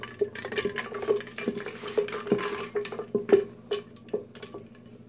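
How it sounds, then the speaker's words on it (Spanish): Tejuino being stirred in a pot, with soft scraping and clinking of a utensil against the pot in an irregular rhythm, close and moderately quiet. "Y vamos a mezclar poquito."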